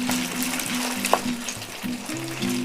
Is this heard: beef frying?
yes